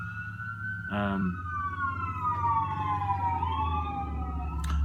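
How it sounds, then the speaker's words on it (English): A fire truck siren sweeps past outdoors, its wailing tone gliding down as it goes by, over steady traffic rumble, with a brief voice near the start. "a fire truck just went by"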